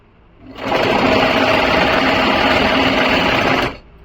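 A sewing machine stitching along the side slit of a kurti, a steady loud whirring run that rises in, holds for about three seconds, then stops abruptly, with no talking.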